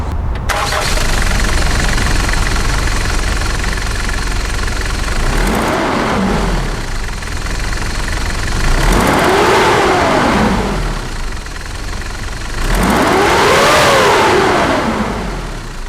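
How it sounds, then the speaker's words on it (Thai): A Mitsubishi Strada G-Wagon pickup, the four-wheel-drive automatic GLS version, starts up and idles steadily, then revs three times with rising and falling engine pitch. The engine is heard up close, with no talking. "มาฟังเสียงเครื่องยนต์กัน"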